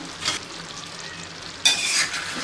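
A spoon scrapes and stirs a chole vegetable dish (chickpea curry) sizzling in a pan over medium gas, in two short bursts of close stirring with a soft fry hiss between.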